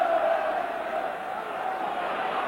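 A football stadium crowd at a 1984 Milk Cup match between Tottenham and Sunderland gives off a steady, broad roar of cheering as Tottenham attack, distant and sustained, with no single voice standing out.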